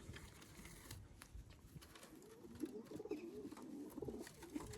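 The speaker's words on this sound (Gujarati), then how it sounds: "તો મિત્રો ખુલ્લામાં કબૂતર આવી ગયા છે" Soft, low cooing of pigeons repeats on and off against a quiet outdoor background with faint rustling.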